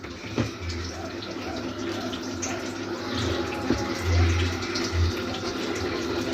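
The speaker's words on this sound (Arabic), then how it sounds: "شوفي بس كده في المصفى لغايه ايه ما يصفي اي ميه فيه." Boiled cabbage drains in a colander, water trickling and splashing steadily at low volume with soft clinks and a brief faint voice in the background.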